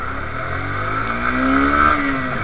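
Yamaha FZS FI v2 motorcycle engine running and revving, a steady loud close drone with pitch swelling upward midway, no voices.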